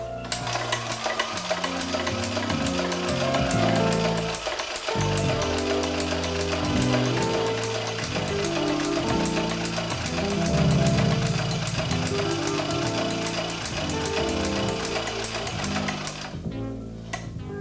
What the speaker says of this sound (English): let your linker do the work